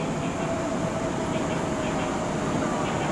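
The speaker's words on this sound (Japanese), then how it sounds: "2番乗り場に39分発賢島行き特急到着です。" A Kintetsu limited express train bound for Kashikojima arriving at platform 2 of Yokkaichi station, a steady loud rumble of the train rolling in close by with a faint high tone running through it.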